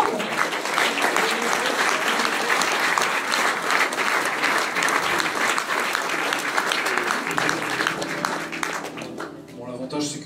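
An audience gives loud, sustained applause for a singer at a Strasbourg campaign event, filling the room with dense clapping that gradually thins toward the end.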